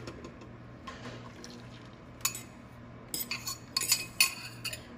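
Matzah brie mixture stirred in a skillet over medium heat, giving scattered faint scrapes followed by a run of brighter clinks and taps of a utensil against the pan, close and fairly quiet, with no talk.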